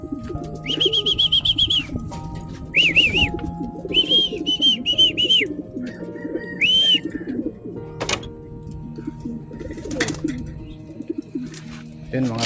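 Pigeons in a loft coo and call repeatedly, some close and some farther off, with a person talking over them.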